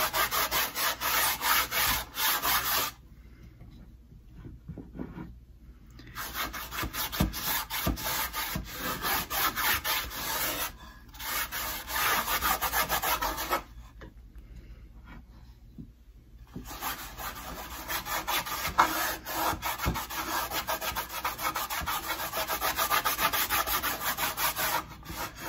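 A cotton t-shirt rubs protective wax into a wooden surface in long, steady back-and-forth strokes, a close, continuous dry scrubbing broken by a few short pauses, with no voices.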